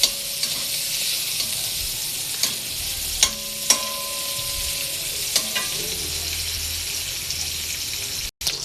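Fat renders into oil in a frying pan with a steady bright sizzle, broken by a few clinks and stirring scrapes.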